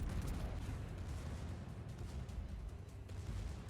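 Battleship secondary guns firing in World of Warships, a dense rumbling barrage of overlapping booms and distant blasts rolling continuously at steady loudness, with no voices.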